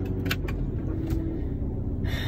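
Steady low road rumble and engine drone from inside a moving car, with faint rattles and brief higher hiss bursts over a continuous bed of noise, no talking.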